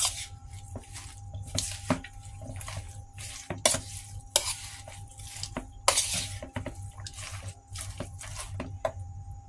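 A spoon works through a wet vegetable okoy batter seasoned with salt and pepper, producing repeated squishy, clicking strokes against the bowl in an uneven rhythm, close up and fairly quiet with no voices.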